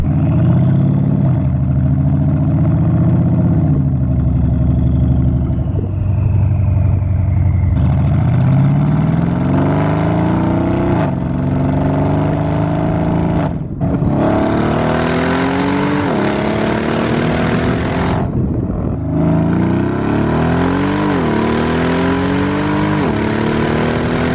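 A deep, nearly straight-piped V8 exhaust on a 2015 Mercedes E63S AMG burbles and rumbles steadily, rising and falling through gear changes as the car cruises, loud and close with no speech.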